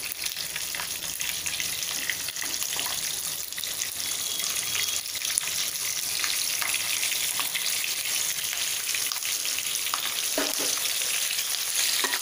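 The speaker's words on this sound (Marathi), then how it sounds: "हे मिरच्या आपण छान परतून घेऊया, एक अर्धा मिनिट फक्त." Capsicum peppers sauté in hot oil in a pan, giving a steady close sizzle and crackle with scattered stirring scrapes over about twelve seconds.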